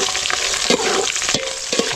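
Village-style pepper chicken frying in a pan with green and dried chillies, a steady loud sizzle broken by several scraping stirs of a spoon against the pan, no voices.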